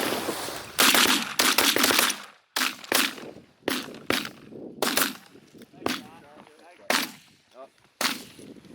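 Shotguns fire at mallards during a snowy duck hunt, a rapid volley of loud close blasts followed by scattered single shots, with hunters' voices mixed in between.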